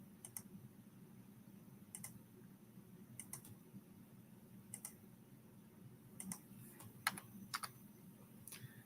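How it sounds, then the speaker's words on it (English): A computer keyboard is typed on in short, quiet bursts of clicky keystrokes, spaced out with pauses, over a low steady room hum. "now I start typing"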